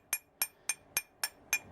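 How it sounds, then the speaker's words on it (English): Six evenly spaced, sharp metallic taps ring out as the thin end of a body hammer strikes a 1986 Mustang door panel backed by a heel dolly, each hit bright and close with a short decay. "Just using my thin end of my body hammer"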